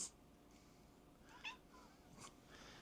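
A cat sitting in a window gives a few faint, far-off meows spaced across a quiet background.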